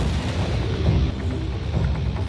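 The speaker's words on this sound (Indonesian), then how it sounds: "mulai menembaknya. Pihak Rusia di luar mendengar tembakan." Gunfire in a gangster film scene, heavy booming shots and bursts in rapid succession, loud and dense with a rumbling tail, no voices over it.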